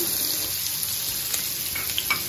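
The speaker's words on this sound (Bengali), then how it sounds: "পেঁয়াজ কাঁচামরিচ দিলাম।" Onion and green chilli sizzle with whole cumin in a hot pan, a steady close hiss that carries on evenly throughout with no talking.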